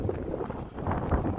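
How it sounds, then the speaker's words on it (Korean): Typhoon Lingling's wind gusts against the microphone in a low, rumbling roar, buffeting continuously through a short stretch with no talking. "이제 제발 좀 그만 불었으면 좋겠네, 바람."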